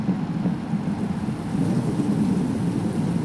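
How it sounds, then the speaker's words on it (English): Steady rain and low rumbling wind fill a Halloween-event video game scene, a constant dense wash of noise at moderate loudness with no voices. "The rain sounds nice, though."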